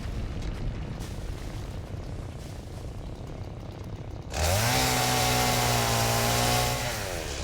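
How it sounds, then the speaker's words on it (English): Video-game chainsaw felling trees in Satisfactory, starting abruptly after a few seconds of quieter background and then roaring loud and steady, its pitch dipping and rising as it bites through the wood. "if you ever run a real chainsaw in real life, it sounds similar to this"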